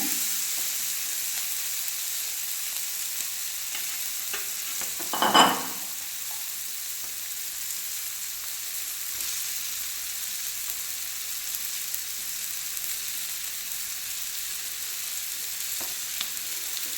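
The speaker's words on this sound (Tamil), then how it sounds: "இப்போ இந்த ஸ்டேஜில் நம்ம இதில் முட்டை கலந்துக்கலாங்க" Egg is mixed into masala frying in a pan for Madurai-style egg masala, giving a continuous close sizzle and hiss with occasional stirring scrapes and one louder clatter near the start, with no talk.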